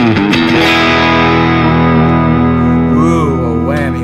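An electric guitar is played through distortion and effects, with a sustained chord bent and wavered by the whammy bar, loud and close and alone.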